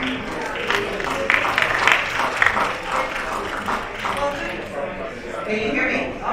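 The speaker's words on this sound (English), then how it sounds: "Becca, big round of applause for Becca." An evening crowd at a beach party fundraiser applauds a board president, steady dense clapping with scattered voices and cheers mixed in.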